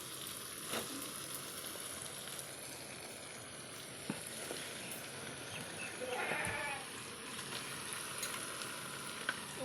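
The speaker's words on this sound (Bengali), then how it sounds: "এবার চিকেনগুলো দিয়ে দিচ্ছি" Chicken pieces frying in hot oil with a cooked-down spice paste give a steady, dense sizzle that runs throughout, broken by brief sharper crackles and a busier burst of spattering past the midpoint, with no talking.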